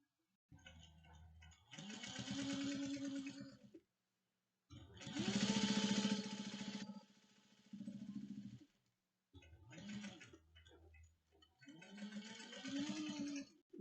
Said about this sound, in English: You have a nice top stitching all the way around.